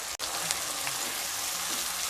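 Turmeric-and-mustard spice mixture for olkopi tangra sizzling hard in a pan as a little water is added, a steady close hiss with a brief dropout near the start.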